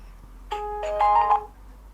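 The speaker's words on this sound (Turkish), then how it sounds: "alarm çaldı siz onu takmayın" A short electronic alarm tone from a phone, a few bright chiming notes lasting about a second against a quiet background.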